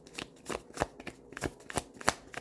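A Moonology oracle card deck being shuffled: a close, quiet run of soft, rapid card flutters and snaps in an uneven rhythm, with no voice.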